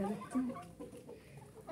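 A rooster and a small backyard flock of chickens cluck softly at a distance, giving brief, scattered calls over low ambient noise.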